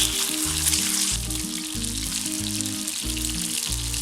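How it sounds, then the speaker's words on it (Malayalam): Marinated chicken fries in hot oil for restaurant-style chicken fried rice, a loud, steady sizzle with crackling bubbles throughout and no talk. "എണ്ണ ചൂടായിട്ടുണ്ട്. ഇതിലേക്ക് നമ്മൾ മാരിനേറ്റ് ചെയ്ത് വെച്ചിരിക്കുന്ന ചിക്കൻ ഇട്ട് കൊടുക്കാം."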